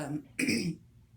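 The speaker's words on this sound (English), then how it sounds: "It's just like a little dry cough." A single short, dry cough from a scratchy throat bursts out at close range, following a faint breath, then quiet.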